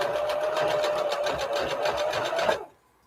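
A sewing machine stitching fabric onto a rope basket runs in a loud, steady, rapid whir for about two and a half seconds, then stops abruptly.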